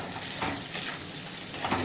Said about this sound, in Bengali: এগুলোকে একটু সময় ধরে বারবার নাড়তে হবে এবং ভালোভাবে কষে নিতে হবে সব কিছুকে